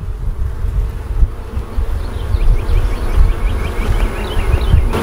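Honeybees buzzing around an open beehive during a hive inspection: a dense, steady drone with individual bees whizzing close past, loud and continuous with no talk.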